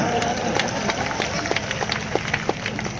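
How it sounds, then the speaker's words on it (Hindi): Crowd at a large open-air Hindi poetry gathering clapping; dense, continuous applause from a big audience with scattered sharper claps standing out, moderately loud throughout. "अरे ताली पीटो"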